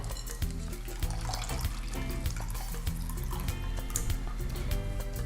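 Coconut liquid pours and trickles steadily, splashing as it runs through a sieve, with faint clinks and no talking.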